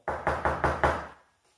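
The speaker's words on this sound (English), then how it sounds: "He then heard a knock from the front door." Five firm, evenly spaced knocks land on a front door, loud and close, then give way to silence.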